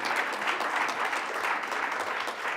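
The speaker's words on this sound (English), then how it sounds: "yes, please clap. Please clap." An audience at a bike summit plenary lunch applauds steadily, a dense even clapping that holds at a moderate level throughout the short stretch.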